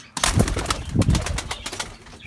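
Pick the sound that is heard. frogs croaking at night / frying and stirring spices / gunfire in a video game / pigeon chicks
pigeon chicks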